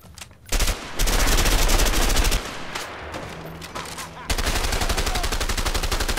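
Sustained rapid automatic gunfire in the video game A Way Out, a loud dense rattle of shots running continuously with a brief pause and then resuming.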